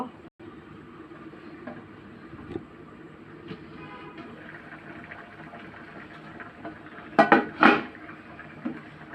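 Puti fish go into a cooking pan for a taro-corm curry, a sudden loud burst of sizzling and clattering near the end after a stretch of quiet kitchen background noise.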